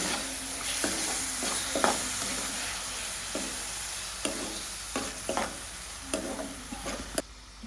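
Chopped tomatoes sizzle and fry in hot oil in a pan, with a steady crackling hiss broken by several sharp stirring scrapes and clatters, close and fairly quiet, with no talking.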